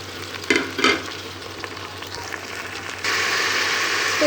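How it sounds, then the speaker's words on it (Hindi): Minced meat (keema) frying over high heat in a pan with onion and garlic, a close sizzle with two stirring scrapes early, then the sizzle swells louder and steadier, no talking. "तो कीमे को अब हम 5 मिनट के लिए तेज़ आंच के ऊपर इसे भून लेंगे"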